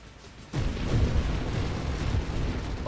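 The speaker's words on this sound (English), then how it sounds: "Oh, then I just walked into the explosion." A sudden explosion in the video game Nova Drift, an abrupt booming onset followed by a sustained rumbling roar that carries on for a couple of seconds.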